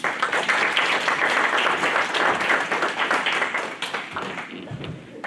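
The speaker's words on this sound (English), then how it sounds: "please, let's give him a warm round of applause." A live audience gives a warm, sustained round of clapping for a guest arriving on stage at a school readathon event, dense and steady for about five seconds before tapering slightly at the end.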